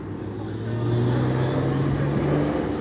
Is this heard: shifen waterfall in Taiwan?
no